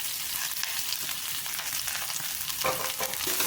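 Onions and green chillies sauté in hot oil with mustard seeds and curry leaves, a steady close sizzle with occasional stirring scrapes, and no talk.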